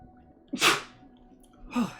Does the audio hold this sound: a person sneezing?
yes